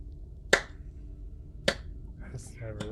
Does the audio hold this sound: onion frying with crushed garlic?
no